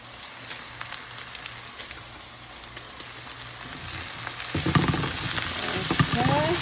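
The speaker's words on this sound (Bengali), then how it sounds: "পাট শাক দিয়ে দিলাম।" Jute leaves sizzle and crackle steadily in a hot pan, with a low hum underneath. Around the midpoint the frying swells louder and denser as the leaves are stirred, and the crackle stays close and continuous with no talking.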